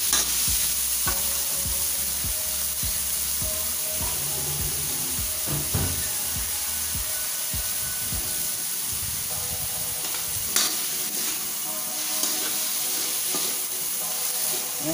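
Pork sizzles steadily in a pan as it fries toward golden brown, a loud continuous crackle and hiss with repeated scraping stirs of a utensil throughout, and no talking.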